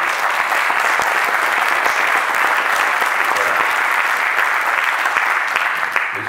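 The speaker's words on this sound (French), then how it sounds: "vous pouvez applaudir tout de suite" Audience in a French lecture hall applauding, a full, continuous burst of many hands clapping that holds steady and loud throughout.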